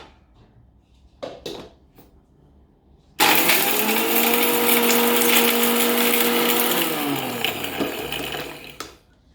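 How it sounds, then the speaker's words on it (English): An electric grinder whirs loudly for several seconds, grinding roasted spices with poppy seeds, with a steady high motor pitch that sags as it winds down; faint clicks of handling come before and after. "We're going to grind them all up."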